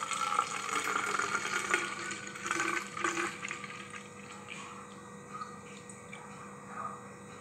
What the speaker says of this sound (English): So I'm just going to open this and pour it from the top.